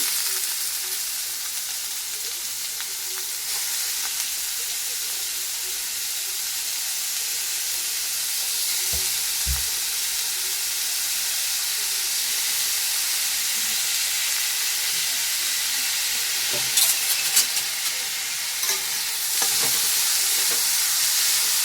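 Onion fries in oil in a pan with a constant loud sizzle and hiss, joined by occasional stirring scrapes and brief clinks near the end.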